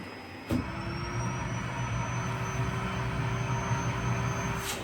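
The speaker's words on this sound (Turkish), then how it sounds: "Süpürgeyi kaldırıyorsun" A vacuum cleaner runs steadily close by, its motor droning with a high whine as balls are sucked up, after a brief knock near the start.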